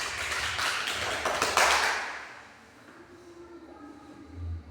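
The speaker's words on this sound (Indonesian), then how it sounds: "Tepuk tangan dulu untuk kelompok 2." A short burst of applause in a classroom, hands clapping for about two seconds before fading into quiet room noise.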